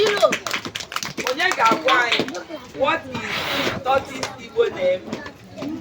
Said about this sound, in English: You clap.